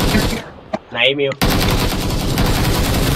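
Loud automatic gunfire in the video game PUBG Lite, rapid bursts filling most of the stretch around a brief quiet gap where a voice speaks.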